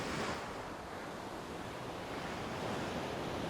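Surf breaks and washes onto a beach at a fishing village in Bali, a loud, continuous rushing roar of churning water with some wind noise throughout.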